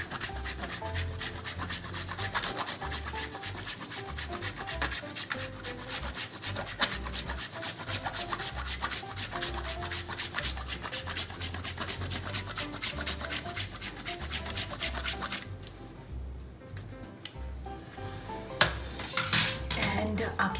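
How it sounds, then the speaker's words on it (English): Dark chocolate is grated onto a cake with a handheld grater, producing close, rapid rasping strokes in a steady back-and-forth rhythm that go on for a long stretch before slowing into a few scattered scrapes and taps. "I'm gonna just take a grater and grate it on the top"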